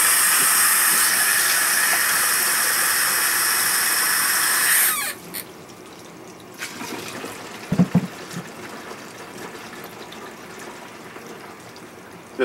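A loud, steady rush of water pours into a jug for about five seconds, then stops, leaving a quiet room with a few light knocks.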